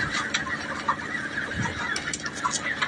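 Chickens cluck busily and continuously, several birds close by, with short sharp calls scattered over a steady farmyard murmur.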